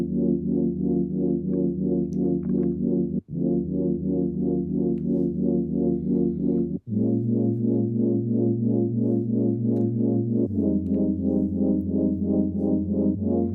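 Sustained synth chords for a UKG remix play alone, loud and steady, changing in four long blocks with brief gaps between the first chord shifts.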